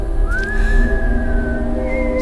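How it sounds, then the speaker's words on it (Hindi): A long, slow, eerie whistle rising and holding steady over a low rumbling background, drawn out for a couple of seconds with a faint second tone near the end. "वही सीटी सुनाई दी, धीमी, लंबी, डरावनी।"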